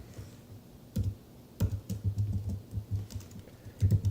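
Someone types code on a computer keyboard, with a couple of isolated key hits followed by a run of close, uneven keystrokes.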